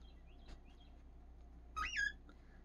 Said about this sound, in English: Did you hear that bird chirping outside?